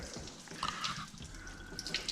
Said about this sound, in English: Make sure we don't get no water coming out over there.